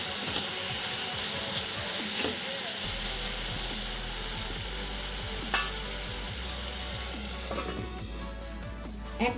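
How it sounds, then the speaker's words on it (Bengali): Tomatoes for a Bengali sweet tomato chutney are stirred in a pan, giving a steady low sizzle with a few soft spoon scrapes and taps, close and moderate, under a constant background hum. "একটু জাস্ট নাড়িয়ে নিচ্ছি, দিয়ে ঢাকা দেবো"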